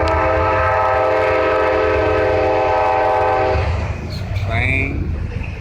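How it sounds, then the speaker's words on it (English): A train passes close by at night, its horn blaring in a long, loud, sustained chord for several seconds before cutting off, leaving the rumble of the cars rolling past as a voice speaks briefly. "Train."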